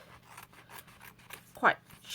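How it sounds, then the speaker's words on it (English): Blunt scissors snip through paper in a series of short, soft cuts at an uneven rhythm, ending with one louder, crisper snip up close. "Right then, so I'm just going to cut up here."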